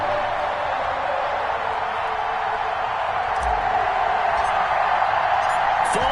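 Packed NFL stadium crowd cheering before a Week 4 game against the New England Patriots, a continuous loud roar with faint whoops and a couple of brief sharp bursts.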